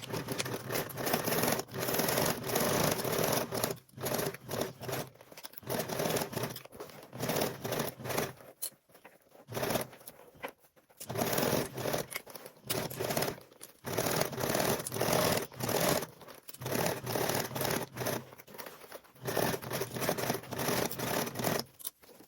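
A sewing machine stitches a snack sack seam at a 3/8 seam allowance, running in steady bursts broken by short pauses, close and fairly loud with no talking.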